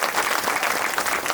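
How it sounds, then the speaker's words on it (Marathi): An audience at a school event claps together in a dense, steady burst of applause that holds at an even level throughout, with no voices standing out. "सर्वांनी जोरदार टाळ्या वाजवायच्या आहेत."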